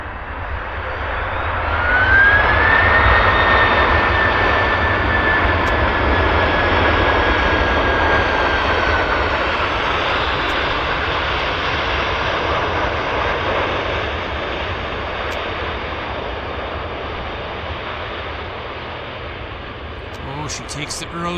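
A KLM airliner taxis after landing at Vancouver Airport, its jet engines holding a sustained roar with a rising whine early on that slowly fades while the aircraft rolls off the runway.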